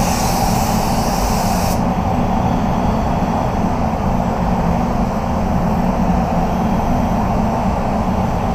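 A spray gun paints a Titan Silver BMW 320i, producing a loud, continuous, steady hiss of compressed air and atomised paint that fills the whole stretch without pause, with no voices.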